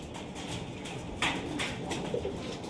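Closed-tail high-flying pigeons coo softly in short, faint, repeated calls over a steady background hum.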